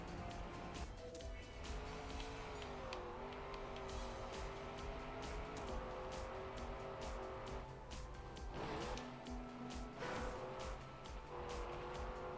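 A race car in the racing game Trackmania, on a desert-themed track, drives with a steady, rising and falling engine whine, brief tire squeals and shifts in pitch running throughout at a constant, fairly close level.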